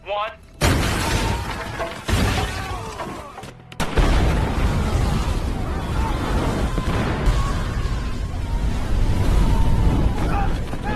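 Bomb trap explosions in a sniper action film, a loud burst followed by heavy booming blasts and rumbling debris after a brief dropout, sustained and dense, with a voice talking over part of it.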